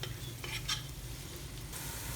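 Onions frying in oil toward light golden for prawn pulav, a soft, steady sizzle with a faint low hum beneath and a couple of brief stirring swishes.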